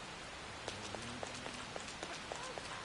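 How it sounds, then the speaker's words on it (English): Rain falls steadily in Persona 5 Royal, a constant hiss of drops with small sharp patters scattered through it and a low ambient hum beneath, with no talking. "I love the sound of rain"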